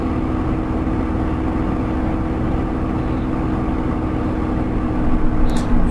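Steady piston engine drone from a Spitfire in Microsoft Flight Simulator, a continuous mid-low hum with harmonic bands, holding level throughout and lifting slightly near the end as power is adjusted.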